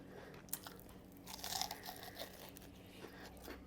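Crunchy Korean-style fried chicken wing bitten and chewed up close, with a sharp crackling crunch at the bite followed by softer chewing, no talking.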